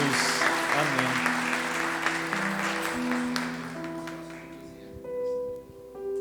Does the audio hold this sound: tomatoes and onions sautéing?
no